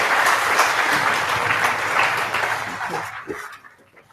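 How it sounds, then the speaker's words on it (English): A marketing conference audience claps for marketers on stage in a loud, dense burst that tapers off and fades out near the end, with some voices mixed in. "could we have a round of applause for the cool marketers on stage and off stage as well?"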